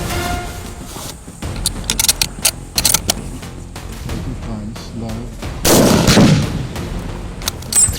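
A hunting rifle shot rings out in Namibia's arid highlands, a loud sharp blast followed by a brief echoing tail, with several quieter sharp bangs and field noise around it.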